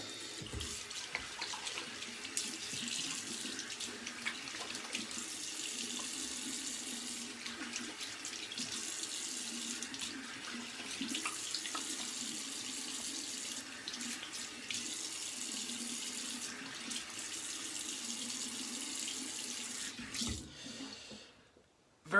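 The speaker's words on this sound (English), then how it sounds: "Cold water rinse." Cold water runs steadily from a tap while a shaving blade is rinsed, a continuous splashing flow at moderate level that stops abruptly near the end.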